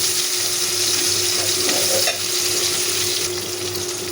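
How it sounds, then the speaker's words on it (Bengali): Chopped onion and garlic fry in a pan, giving a steady, close sizzle with a faint stirring scrape now and then, heard alone without any talk throughout. "পেঁয়াজ আর রসুনটা বেশ কিছুক্ষণ ভাজা ভাজা করে নিচ্ছি।"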